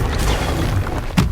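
Stupefy spell cast in the video game Hogwarts Legacy: a short, heavy magical boom with a low rumbling body and a brighter burst near the end.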